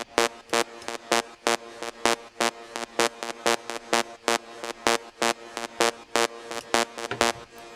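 A bright, buzzy square-wave synth lead plays short, punchy staccato notes in a steady driving rave rhythm, loud and upfront with no voices.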